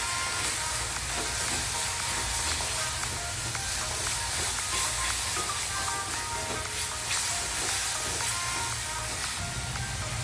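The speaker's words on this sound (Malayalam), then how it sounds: "ഇതിലേക്ക് 1 spoon Kashmiri chilli powder add ചെയ്ത് നന്നായിട്ട് വഴറ്റി കൊടുക്കാം." Sauces with Kashmiri chili powder sauté in a pan, giving a loud, dense, continuous sizzle and hiss with busy stirring scrapes layered over it for the whole stretch.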